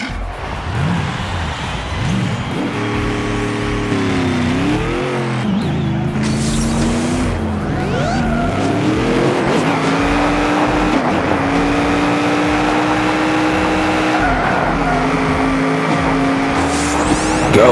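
Engine of a D-class car racing in the Hot Wheels id mobile game, a continuous buzzy drone whose pitch climbs, dips and shifts through gear changes and revs, loud and steady throughout with no talk over it.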